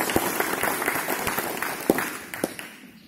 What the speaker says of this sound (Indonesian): Mari kita berikan tepuk tangan buat Sumba Barat Daya.